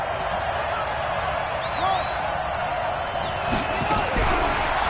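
A stadium crowd roars in a football video game ahead of a big third-down play, a dense steady wash of cheering with whistling whoops rising over it, while a commentator talks.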